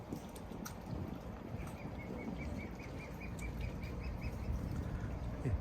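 Ducks quack in a quick repeated series, moderately close, over a low rumbling outdoor background with no talking.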